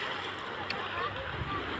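Small sea waves during the southwest monsoon at a seaside bathing spot, washing in as a soft, steady, fairly distant rush with no distinct breakers.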